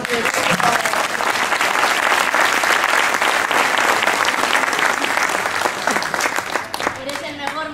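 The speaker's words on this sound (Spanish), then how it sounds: "muchas gracias por vuestros aplausos" Loud, dense audience applause fills a singing festival hall, continuous claps throughout with some cheering voices mixed in, tapering slightly at the end.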